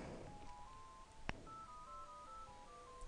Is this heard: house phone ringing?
yes